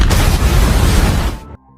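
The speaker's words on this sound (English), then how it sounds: "Big John pulled the bag, triggering an explosion within the warehouse." A grenade blast inside a warehouse, a movie sound effect: one loud, full-bodied explosion with a long rumbling roar that stops abruptly, no voices.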